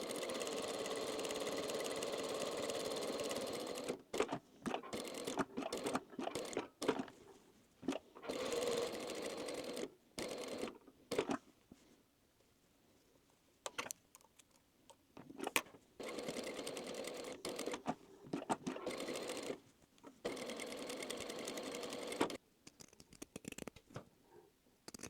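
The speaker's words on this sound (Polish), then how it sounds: "zaczynam szyć od tej strony i po całym obwodzie" A sewing machine stitches two plush cherry halves together around their edge, running in close steady whirring bursts separated by quiet pauses, with no voices.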